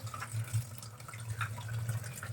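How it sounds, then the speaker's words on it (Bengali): Mustard greens being washed under running water, a soft continuous splashing and trickling with faint drips over a low hum, close but quiet. "ভালো ভালো করে ধুয়ে নেবো। এটা সুন্দর করে ধুয়ে নিতে হবে"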